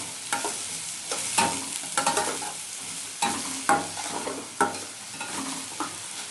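Onions with a pinch of salt cooking in a pan, a soft steady sizzle broken by repeated scraping stirs of a spoon or spatula, close and clear with no talking.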